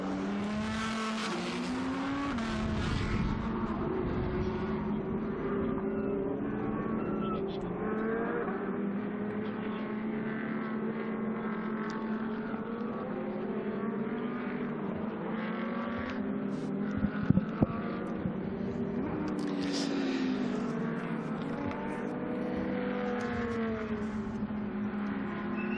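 GT2 race cars circuit Dijon on a formation lap, engines droning steadily with shifting revs as the pack rolls by, several cars overlapping at moderate distance with a brief sharper burst midway.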